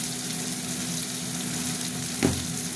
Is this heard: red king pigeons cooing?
no